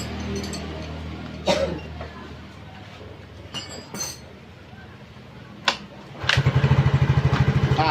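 A Honda Mio scooter, which has an ECU/CDI fault, is kick-started. A few clanks and scrapes come from the kick lever, then the engine catches and settles into a close, steady low putter. Faint talk sounds at times.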